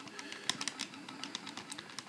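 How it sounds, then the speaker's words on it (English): Birds in a Vectrex video game make a quick stream of sharp electronic chirps and clicks, rapid and irregular, at moderate level with no talk. "this is when I start cursing at the birds"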